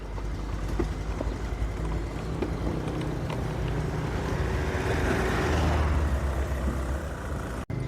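A Honda Beat ESP fuel-injected scooter engine runs for a test, a steady close low drone with wind-like rumble that swells slightly toward the end, then cuts off abruptly.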